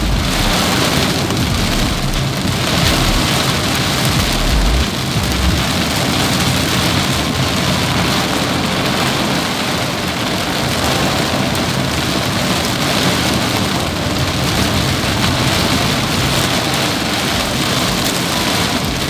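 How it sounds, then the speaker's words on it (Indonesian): Heavy rain pours down continuously while driving along Selokan Mataram, a loud dense hiss of drops drumming on surfaces, with a low rumble underneath. "Apakah hujannya sederas ini ataukah malah nggak hujan"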